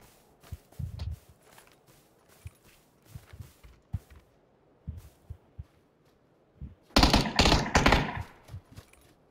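Gunfire in the video game The Division 2 crackles at a distance as scattered soft shots and thumps, then a louder close burst of rapid fire erupts near the end before fading back to sparse distant pops.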